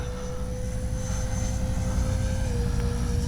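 A Freewing 70mm F9F-5 Panther RC jet flies past with a steady, loud ducted-fan whine and a constant high tone, holding close and even for a few seconds without talk.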